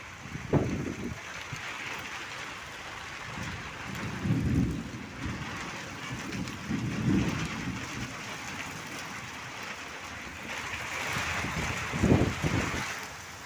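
A thunderstorm with heavy rain: a constant wash of falling rain with several low rumbles of thunder rolling through at intervals, moderately distant, with no talking.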